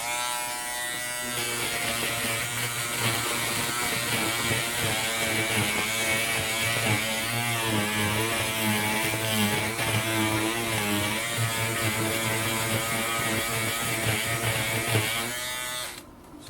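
Peggy's Stitch Eraser, an electric trimmer, buzzes steadily and loudly while removing stitches, running continuously alone for about fifteen seconds before cutting off.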